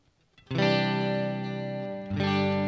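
Clean electric guitar tone with reverb from an M-Vave Tank G: a single full strum rings out and sustains, then a second strum lands near the end, close and clear with a spacious tail.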